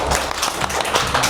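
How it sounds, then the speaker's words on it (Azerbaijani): A classroom of children clapping for a pupil named Zeyd, a dense, steady patter of many small hands close by, continuing throughout without any voices over it. "Alqışlayaq uşaqlar Zeydi."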